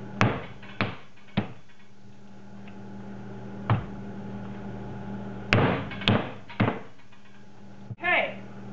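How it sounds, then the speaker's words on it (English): A hammer strikes a cloth-wrapped coconut to crack the shell, giving sharp, fairly close impacts in irregular bursts separated by pauses, with a brief voice-like sound right at the end. "So I would wrap it around like this and literally just start hammering it."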